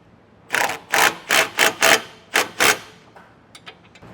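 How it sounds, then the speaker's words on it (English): A bolt is snugged with a 5/8 inch socket on a ratchet, an 11/16 wrench holding the back, while fitting a base plate kit to a 2023 Jeep. About eight crisp, evenly spaced ratcheting bursts sound close up, then a few faint ticks. "I'm going to use a 5/8 inch socket for the head of the bolt and an 11/16 wrench for the back"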